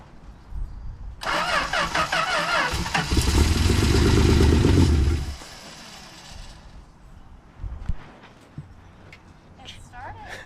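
A 1962 Valiant Signet 200 barn-find car cranks and fires up, catching into a loud, rough run for a few seconds before dying back down; voices talk before and after the start.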